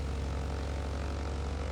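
A propeller aircraft engine in Microsoft Flight Simulator runs as a steady, droning rumble with a pulsing low throb, continuous and fairly faint, with no voices over it.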